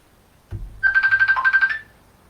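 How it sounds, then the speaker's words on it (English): A phone ringtone sounds for an incoming call: a bright, steady electronic warble repeating in quick pulses for about a second, loud and close, after a short thump, with no talking. "I'm getting a phone call here."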